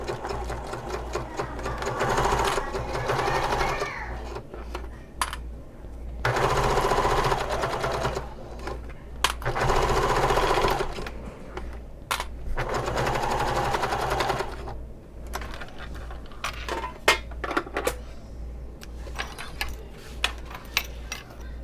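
A sewing machine bastes close to the edge while stitching a fabric bag, running in steady bursts of rapid mechanical whirring and ticking with short pauses between runs, close and clear with no talk.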